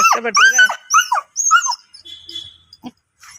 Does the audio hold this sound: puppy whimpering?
yes